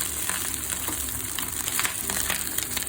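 Cuttlefish eggs fry in a hot pan with oil, giving a steady, close crackling sizzle that holds an even level throughout with small popping flickers.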